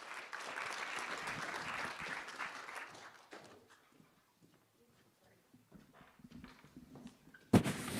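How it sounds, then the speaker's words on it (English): Audience applause greets a presenter at an entrepreneurs' showcase event, a loud sustained round of clapping that fades out after about three seconds, followed by quieter room sounds and a sharp knock near the end. "A warm round of applause welcoming him as well."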